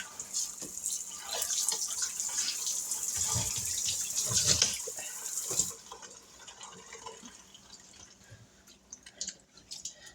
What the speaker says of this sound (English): the water is washing away a lot of grime